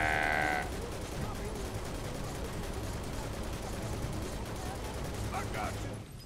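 Gunfire during a Final Fantasy VII Remake battle, a steady stream of rapid shots with dense crackle and low rumble, moderately loud, running for several seconds alongside voices.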